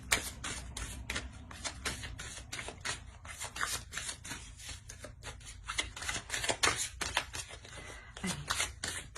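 Tarot cards are shuffled close by in a rapid, rhythmic run of crisp riffling and flicking bursts that continues throughout at moderate loudness, with no talking over it.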